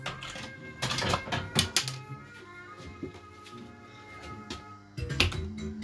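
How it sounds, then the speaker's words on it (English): Pound coin dropping into a Club Coronation Street arcade jackpot machine, a cluster of sharp metallic clicks and rattles followed by quieter mechanical ticks and a final clatter, close by. "Another pound going in."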